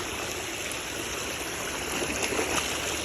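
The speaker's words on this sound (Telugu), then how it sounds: "చిన్న వాటర్ ఫాల్ చెక్ చేసుకోండి" Small waterfall in Goa during the monsoon, just after rain, pouring as a steady, dense rushing roar of falling water with no pauses.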